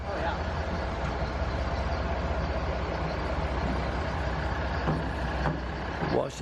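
Continuous heavy rumble of a train rolling past nearby at the Southeastern Railway Museum in Duluth, Georgia, steady and loud throughout with faint squeals and clanks near the end.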